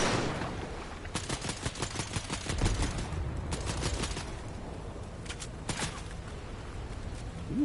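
Fortnite gunfire crackles in bursts of rapid shots, some close and some farther off, clustered early and again later with short gaps, under a faint background and no talk.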